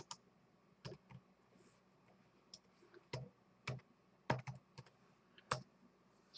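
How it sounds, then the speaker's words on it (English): Keystrokes on a computer keyboard come in sparse, irregular bursts of a few clicks at a time, close and fairly quiet, with no talking. "typing away on his computer, and you hear that"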